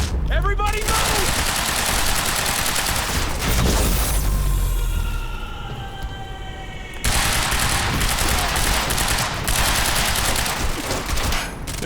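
Gunfire in the video game Quantum Break, dense rapid bursts and sustained automatic shots filling most of the stretch, loud and close, with a brief lull partway before the firing resumes.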